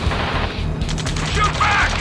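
Rapid bursts of gunfire from a firefight in Ace Combat 7, dense crackling shots layered with shouted radio chatter and mechanical clatter, loud and close.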